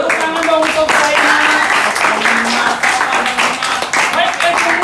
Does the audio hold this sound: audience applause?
yes